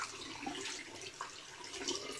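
Hot water running from a tap at a barbershop sink, a steady broadband hiss of flowing water for about two seconds, close and fairly even, with no one speaking.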